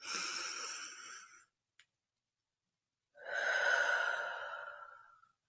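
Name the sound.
deep cleansing breath in and out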